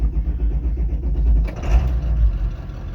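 A right-hand drive truck's engine cranks and fires up at a shop, a steady low rumble with a swell of revving midway, close and loud with no talk.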